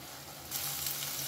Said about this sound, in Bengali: যতক্ষণ না পর্যন্ত মশলা থেকে তেল ছেড়ে আসছে ততক্ষণ এটাকে কষাতে হবে।